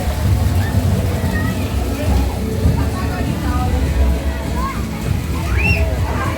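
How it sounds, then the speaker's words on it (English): Water splashing and sloshing at Epcot's Journey of Water attraction, a continuous close wash of spray and flowing water mixed with crowd murmur and occasional voices. "Splashing water over here."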